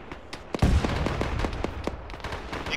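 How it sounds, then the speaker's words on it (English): Grenade explosions in the ShackTac military video game: a heavy close thump, then a rapid scatter of sharp cracks and pops that keep rattling irregularly until the end. "Incoming grenades."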